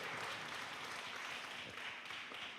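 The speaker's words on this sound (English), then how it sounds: "give yourselves a round of applause" Applause from a workshop audience, a dense continuous wash of many hands clapping together, steady and fairly close, with no break.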